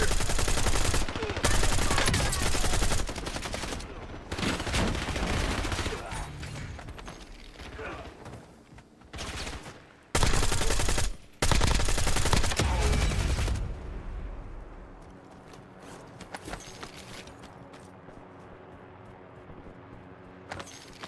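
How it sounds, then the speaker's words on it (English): Video game gunfire crackles in loud, rapid automatic bursts with short gaps between them, then gives way to quieter mechanical clicks and rattles near the end. "Taking effective fire"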